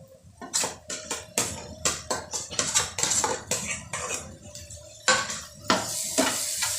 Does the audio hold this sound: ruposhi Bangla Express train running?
no